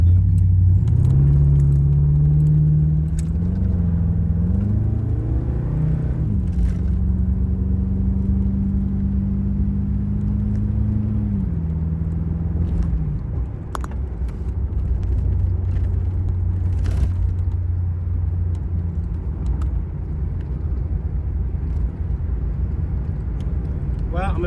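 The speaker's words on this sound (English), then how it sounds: "I'm gonna run down the hill here real quick, see if I can get it up to 50, maybe 55 miles an hour" A car with an LS V8 engine swap accelerates down a hill on a big street toward about 50 mph. The deep engine drone rises in pitch through the gears and then settles into a steady cruising rumble, with someone talking over it.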